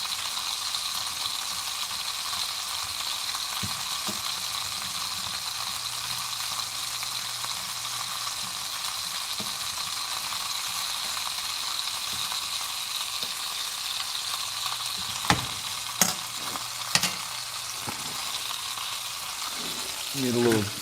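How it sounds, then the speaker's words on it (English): Onions and sausage fry in a pan, a steady broad sizzle running throughout, with a few sharp scrapes and clacks of a utensil stirring and breaking them up near the end. "break all this onions and sausage up"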